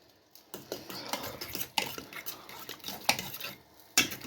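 A spoon stirs a mild curry in a pot, with close scraping and clinking against the metal and soft sloshing in an irregular rhythm, sharp knocks standing out now and then.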